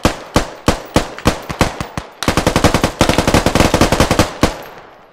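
Loud, close gunfire in the Squad military shooter game, beginning with evenly spaced single shots, then a dense sustained automatic burst, ending with one last shot.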